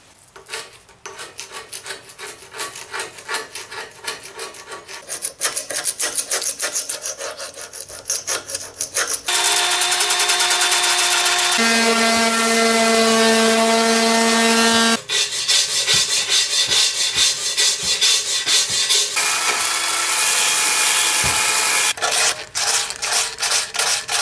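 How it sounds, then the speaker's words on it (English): A wire brush scrubs rust from a steel Jeep Wrangler bumper with rapid, harsh back-and-forth scraping. Part of the way through, a sustained, loud, whining grind takes over, and then the rough rhythmic rasping strokes return. "I'm going to use a wire brush, a heavy-duty paint, and rust stripper"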